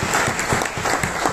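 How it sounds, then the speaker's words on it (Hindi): Audience at a business seminar clapping together, a loud, close, rhythmic burst of hands striking in an even beat, with no talk over it. "तो ताली बजा रहे हैं।"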